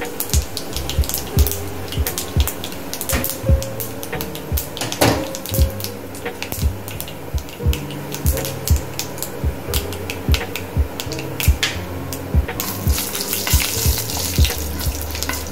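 Urad dal fries in coconut oil in a pan, giving a busy, close sizzle laced with frequent sharp crackles and spits, loud and steady throughout with no talking.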